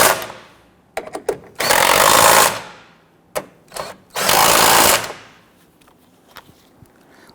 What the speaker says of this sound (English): Let's snug down the nuts here first.